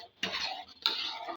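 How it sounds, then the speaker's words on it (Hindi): A spoon stirring butter melting over low heat in a pan while making desi ghee: two bursts of scraping and bubbling, close and moderately loud, with a brief quiet gap at the start. "मुसलसल इसमें हम चम्मच चलाते रहेंगे"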